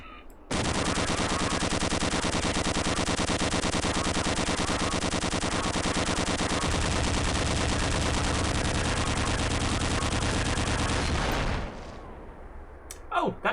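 Automated turrets in Half-Life from The Orange Box unleash an unbroken, rapid stream of gunfire for around eleven seconds, loud and dense, then cut off, leaving a few faint game sounds.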